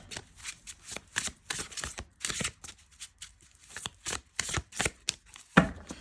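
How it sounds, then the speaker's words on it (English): Tarot cards with matte backs are shuffled in quick, papery riffling bursts, repeated in an uneven rhythm, close and fairly quiet. "Let's just shuffle these."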